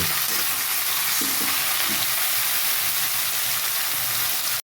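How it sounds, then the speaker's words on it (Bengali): Taro stolons (kochur loti), already boiled in salted water, fry in a pan with mustard, giving a steady close sizzle and crackle with a few soft stirring scrapes throughout and no talk. "এটা ভাজতে হয় ভালো করে যত ভালো ভালো ভাজবেন তত কিন্তু টেস্ট হবে ঠিক"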